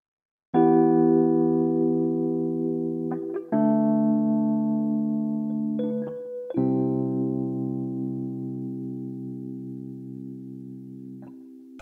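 Synthesized MIDI notes in Mixbus, kept in key by the MIDI Enforce Scale plugin: three sustained, buzzy harmonic notes or chords start one after another and ring out clearly, with no voices.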